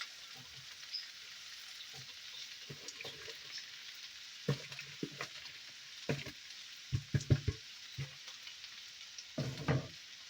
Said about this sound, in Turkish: Önce e, yüksek ısıda ıspanaklarımızı kavuracağız.